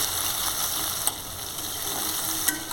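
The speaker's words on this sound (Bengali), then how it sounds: "হালকা হাতে আমি পেঁয়াজ আর টমেটোটাকে নাড়াচাড়া করছি" Onion and tomato fry in a pan for a fish curry, giving a steady close sizzle, with a couple of faint scrapes of a spatula as they are gently stirred and no talking.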